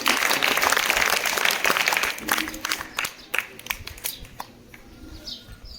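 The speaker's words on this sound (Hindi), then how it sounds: "जोरदार ताली।" Loud applause from a quiz competition audience fills the opening seconds, then thins into scattered, fading claps with a few sharp individual hand hits near the end.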